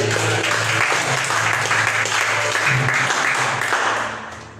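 A church congregation applauding loudly in steady, dense clapping that carries on for several seconds and then fades out at the end.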